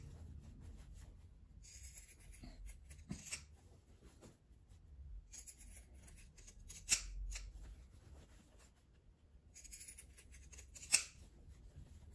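Pinking shears snipping notches into fabric for a cloth gift bag, quiet crisp cuts repeating in small bursts with rustling cloth between them, close and faint.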